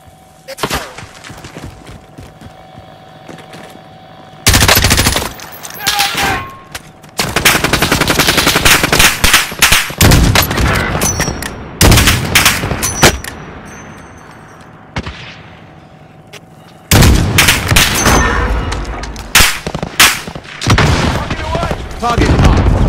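A light machine gun fires in a video game, with repeated long, loud automatic bursts separated by quieter gaps, plus distant shots and in-game radio chatter.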